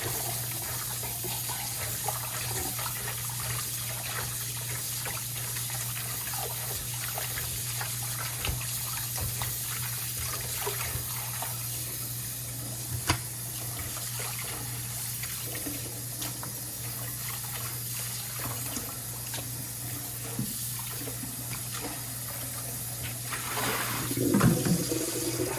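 Tap water runs steadily into a sink while food is washed for salted adobo, a continuous close splashing stream that fills the whole stretch, with small handling clatters and a brief disturbance near the end.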